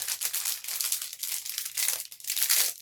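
Close, busy crinkling of plastic bags holding diamond painting beads as they are opened, a dense rustling crackle that continues without pause and with no talk.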